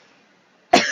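A single sharp cough bursts out after a stretch of near silence, close and loud, with a short rough tail.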